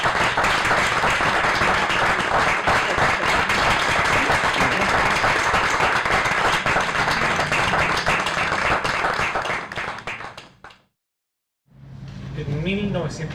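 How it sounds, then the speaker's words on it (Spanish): Audience applause for author Alejandra Basualto at the Premio Letras de Chile 2018 ceremony, a dense sustained wash of clapping that fades out near the end before a voice begins speaking. "aplaudamos a nuestra querida Alejandra"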